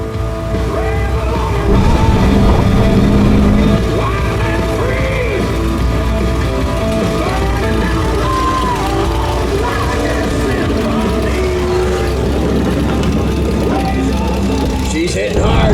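A V8 stock Jeep Cherokee, number 145, races around an off-road track, its engine roaring and revving continuously amid loud crowd noise and shouting, with an announcer talking over the action.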